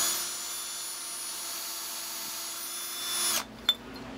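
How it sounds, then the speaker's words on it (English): A stubby drill bit bores a pilot hole in hardened steel vise jaws, a steady close-up power-drill whine that cuts off near the end, followed by a single brief clunk. "I guess this little stubby drill bit here, I'm going to have to walk it out a little bit."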